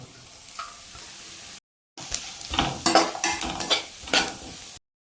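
Onions, green chilies, beans and carrots sizzle in a pan for an egg vermicelli breakfast while a spoon stirs and scrapes against the metal in irregular bursts, close and fairly loud, after a brief silent gap.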